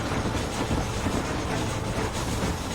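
A steam locomotive train in the Red Dead Redemption video game, a dense, steady rumble of rolling wheels and engine that stays loud and unbroken throughout, with no talking.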